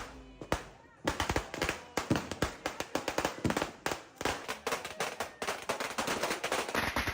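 New Year's Eve firecrackers bursting in a dense, rapid string of sharp, loud cracks that go on almost without pause, like a long chain of bangers going off close by, with faint voices now and then among the blasts.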